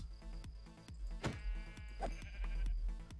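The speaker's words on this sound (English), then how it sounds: "Just a sheep." Sheep bleating in a Minecraft-style video game, one drawn-out bleat standing out over a steady game soundtrack with repeated short thumps and tones, loud and close.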